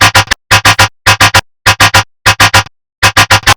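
Dubstep gun synth sounds, short and choppy, firing in tight bursts of three or four sharp, loud, buzzy stabs separated by brief silences, repeating steadily with no voice.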